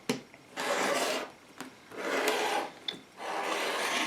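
Quilt fabric is cut along a ruler, likely with a rotary cutter, making several close, rasping strokes separated by short pauses as the hands move down the ruler, with no talking.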